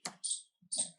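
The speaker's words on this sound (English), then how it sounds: "And just type again here" A few quick keystrokes on a computer keyboard, about four faint, close clicks in just over a second.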